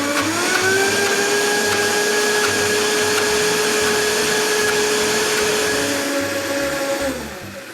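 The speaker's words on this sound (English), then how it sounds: "We're going to continue to blend just until this becomes a nice smooth sauce." A blender runs steadily and loudly, whirring as it purees dried black olives with olive oil into a smooth sauce, its motor pitch holding constant before dropping and winding down near the end.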